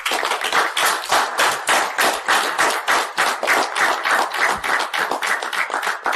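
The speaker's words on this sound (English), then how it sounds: "Give a big round of applause to DTM Akbar Jan Marwat" Audience applause at a Toastmasters debate meeting, a dense, steady wash of many hands clapping that carries evenly through the whole stretch with no voices over it.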